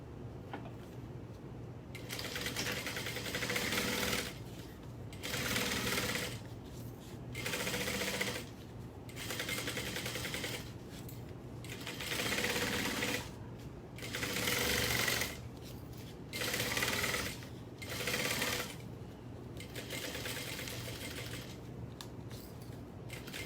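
Sewing machine running a quarter-inch seam around a project, in repeated bursts of steady mechanical whirring a few seconds long, separated by short pauses, fairly close and with no voices over it.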